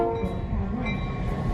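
A heritage ghost-town train ride in Ely, Nevada, heard from inside the car as a continuous low rumble with a faint mechanical whine, steady and close.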